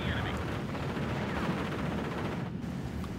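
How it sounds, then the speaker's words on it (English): Mortar fire and battle noise in the video game Steel Division 44 Normandy: a dense, continuous rumble of booming shots and blasts, loud and unbroken throughout the short stretch. "We're just firing mortars at each other left and right here."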